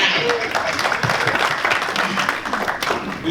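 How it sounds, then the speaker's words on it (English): An audience claps steadily, a dense wash of applause that fills the whole moment while voices mix in underneath. "You can clap for that."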